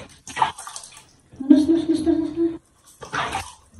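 Water pours over a baby during a bath in bursts of splashing, with a whimpering, babbling voice and adult talk between the pours.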